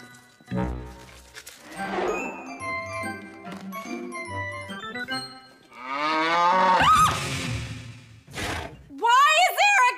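A cow mooing indoors in an apartment during a sitcom scene, with talk and other sounds in the first half, then long drawn-out moos near the end, loud and close.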